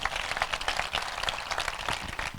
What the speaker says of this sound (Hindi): ताली यीशु के लिए बजाएं जरा जोर से